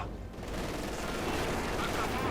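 Dense gunfire crackles from a battle in the Company of Heroes 2 real-time strategy game. The bursts are continuous, loud and overlapping, with no clear gaps between volleys.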